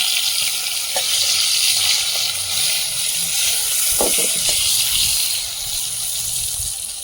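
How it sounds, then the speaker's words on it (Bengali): White brinjal pieces, cut long and round and coated in salt and turmeric, fry in hot oil with a steady, loud crackling sizzle and a few brief spits and pops. "তেলটা গরম হয়ে গেছে আর বেগুনগুলো লবণ হলুদ মাখিয়ে রেখেছি দিয়ে দেবো তেলের মধ্যে"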